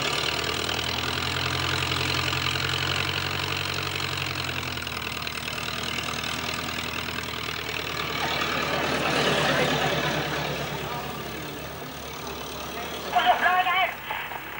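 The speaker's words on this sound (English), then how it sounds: "All right, Ross, could you start the engines and you're away, Hilda." A steady aircraft engine drone idles throughout as the engines start, rising and swelling around the middle, with a brief louder clatter near the end and people talking faintly underneath.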